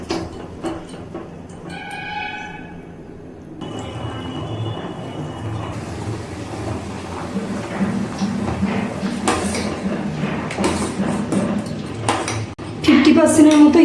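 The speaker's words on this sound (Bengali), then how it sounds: "আমি যে ইঁচড়টা কেটে রেখেছিলাম সেটাই জলের মধ্যে দিয়ে দিচ্ছি, একটু সিদ্ধ করে নেব। আবার একটু নাড়াচাড়া করে দিলাম।" Cut jackfruit being stirred in a pot of boiling water, with clanks and scrapes of a utensil against the pot and a bubbling background, while someone talks over it.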